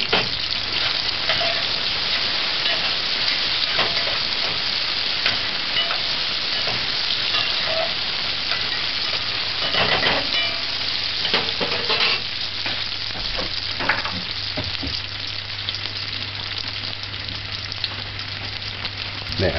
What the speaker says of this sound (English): you saute it like this, it would break down in the sausage and create a flavor.